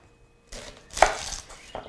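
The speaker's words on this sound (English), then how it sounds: "first, it's just cut off the ends of your onion" Knife cutting the ends off an onion on a cutting board: a few sharp, close chops, the loudest in the middle, with no talk.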